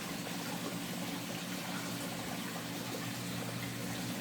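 Creek water flows in a steady, quiet rush with a continuous gurgling wash and no breaks or voices.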